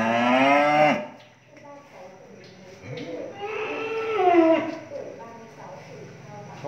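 Cattle on a farm give loud, drawn-out moos, one long low call at the start and more lowing further on, close by, with someone talking in between.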